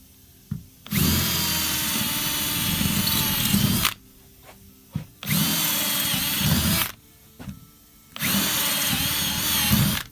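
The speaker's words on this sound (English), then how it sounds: "And then drill them with a 3/16 bit usually." Three loud, close bursts of a power drill with a 3/16 bit grinding out rivets on a bus, each lasting a few seconds, separated by short pauses with faint clicks.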